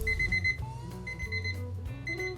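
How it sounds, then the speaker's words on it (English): A kitchen timer rings out for sourdough bread baked in a Dutch oven, a clear repeating electronic beep pattern, fairly loud and close, sounding alone. "Okay, the timer's gone off and the bread is ready."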